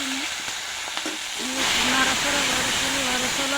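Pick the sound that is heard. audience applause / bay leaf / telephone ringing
bay leaf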